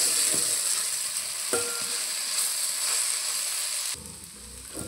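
Okra (ladies' finger) sizzles in hot oil in a pan, a steady close hiss broken by a few clinks and scrapes of stirring, then quieting near the end.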